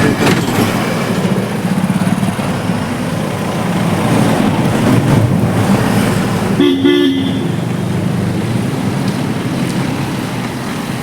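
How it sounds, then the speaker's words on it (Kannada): Busy road traffic on a pilgrimage walk route, a steady broadband rumble of passing vehicles with a short horn toot near the middle, loud and continuous with no talking. "ಎಷ್ಟು ವೆಹಿಕಲ್ ಎಲ್ಲ ತಿರುಗಾಡ್ತಿದೆ"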